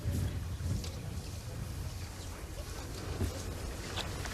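Wind sweeps across the links golf course during the final round of the 2024 Open Championship, a steady, loud roar of gusting air buffeting the microphone, with no voices heard.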